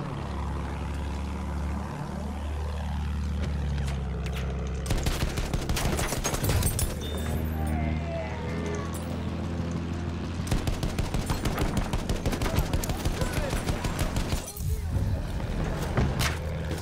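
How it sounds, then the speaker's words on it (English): Gunfire in the Battlefield 1 video game, with rapid bursts of automatic fire crackling loud and close over a constant low engine-like drone, broken by single shots and intermittent voices. "Somebody is shooting me!"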